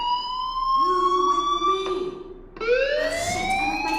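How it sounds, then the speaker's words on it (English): A school fire alarm in the video game Life Is Strange, a loud wailing electronic tone that sweeps up and holds, then restarts and rises again, heard alone without talk. "Hey, do you hear that fire alarm?"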